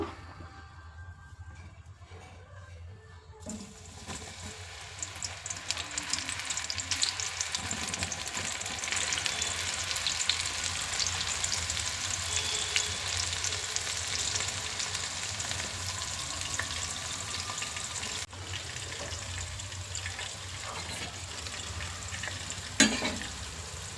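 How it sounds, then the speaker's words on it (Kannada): Soy chunks go into hot oil over a medium flame, and after a quiet start the deep-frying builds into a continuous bubbling sizzle that stays fairly close. "ಎಣ್ಣೆ ಕಾದಿದೆ ಈಗ ಮೀಡಿಯಮ್ ಉರಿಯಲ್ಲಿ ಇದನ್ನು ಹಾಕಬೇಕು"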